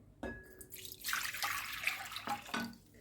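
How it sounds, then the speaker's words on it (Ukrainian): Warm water pours from a tap into a bowl for homemade bread dough, a brief close splashing stream that starts abruptly, runs for about two seconds and trails off. "У миску я додаю 500 мл теплої водички."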